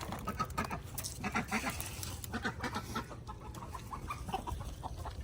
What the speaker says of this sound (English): See all the chickens come over?